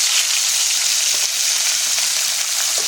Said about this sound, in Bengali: যে বাকি মাছগুলো আছে সেগুলো কিন্তু আমি ভেজে নেব